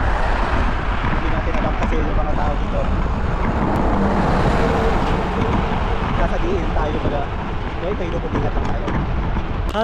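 Cars speeding along a downhill road, a steady loud roar of passing traffic throughout with a continuous rushing engine and tire noise; faint voices may be present.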